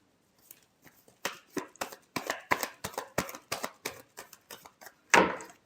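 Tarot cards are shuffled and handled, a run of about fifteen crisp, close snaps and taps in an uneven rhythm, ending in a louder riffling burst.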